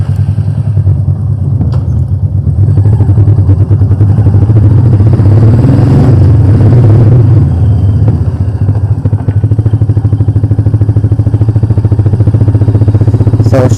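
A Royal Enfield Meteor 350 motorcycle rides along with a steady, loud low engine thrum and rapid firing pulses, rising briefly in the middle as it accelerates, with wind rush and faint clatter throughout.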